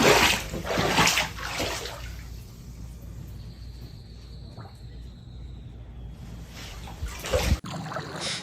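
Floodwater from the overflowing El Seco River rushes and splashes through flooded streets in Mexico, a steady wash that is loudest at the start and end and quieter in between.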